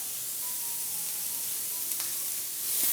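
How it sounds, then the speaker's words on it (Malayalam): Egg fried rice sautéing in a pan over high flame, a steady broadband sizzle running throughout with a brief louder scrape near the end, no talking. "വീണ്ടും നല്ല രീതിയിൽ എല്ലാം കൂടി ഒന്ന് വഴറ്റി കൊടുക്കുകയാണ്"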